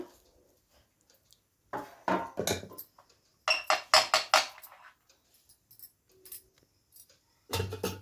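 Oiled metal idli plates clink and clatter as they are stacked onto an idli stand in a kitchen, several short bright metallic bursts with quiet pauses between.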